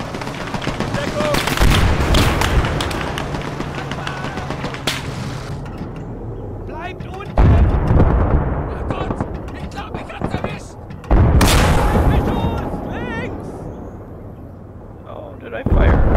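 Long-range gun firing in the Call to Arms Gates of Hell WW2 strategy game, several loud booming shots with rumbling decay, amid battle noise and voices talking.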